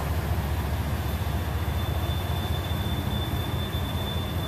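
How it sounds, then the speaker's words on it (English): An Iowa Interstate railroad train passing close by, a loud, continuous rumble and rolling roar that holds steady throughout with no talk. "we got a train coming"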